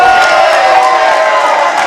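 Fans of the Cicero Costha team in a Brazilian jiu-jitsu quintet finals crowd cheer a guard pass, a loud, continuous roar of shouting and whooping voices with no break.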